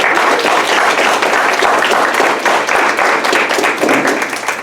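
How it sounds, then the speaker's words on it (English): Guests at a scholarship award dinner break into loud, sustained applause, a thick wash of many hands clapping that carries on steadily before easing slightly at the end. "let's give them a huge round of applause"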